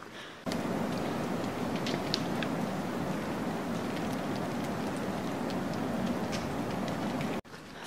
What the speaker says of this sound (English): we can hear the hail falling to the northeast